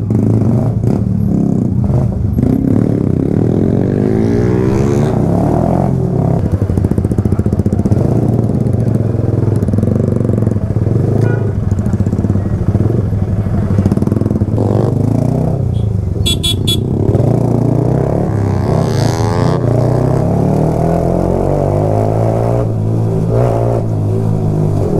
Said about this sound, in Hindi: अभी मैं रजत भाई की बाइक चला रहा हूँ बिकॉज मेरे को इनका एग्जॉस्ट नॉट एक्सपीरियंस करना था